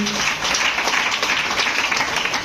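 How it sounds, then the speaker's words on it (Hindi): An audience at a DXN distributor meeting in Patna applauds a member who qualified for a Thailand trip, with steady, dense clapping that stays loud and continuous throughout. "एक जोरदार ताली होनी चाहिए उनके लिए"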